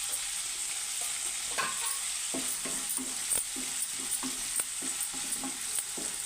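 Curry leaves and green chilies frying in oil for crispy dosa: a steady close sizzle with a regular series of soft scraping stirs, and no talking.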